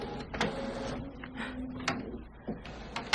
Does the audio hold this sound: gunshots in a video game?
no